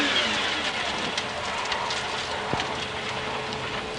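A McLaren F1 road car from the late 1990s runs hard through a record acceleration and braking sprint, heard as a steady, dense engine roar with some wind noise. The roar stays at a fairly even level throughout, with no voices.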